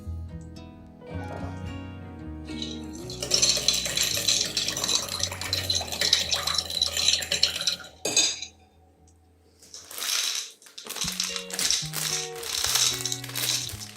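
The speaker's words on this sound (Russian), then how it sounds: "Перемешиваем это все." Kitchen clatter as a meat marinade of soy sauce, salt and sugar is stirred: a spoon scrapes and clinks in a bowl, a water tap runs briefly, then a pause before more clinking close by, no speech.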